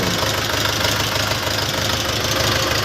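A Jinma mini tractor of about 40 hp with a cab runs steadily at idle. The engine gives a continuous, even mechanical knocking drone with no pauses.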